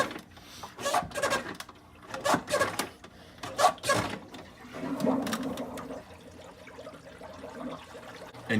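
A SUNSUN 304B aquarium canister filter being primed, with water surging and gurgling through it in repeated bursts, then settling into a softer trickle, close and fairly loud with no talking.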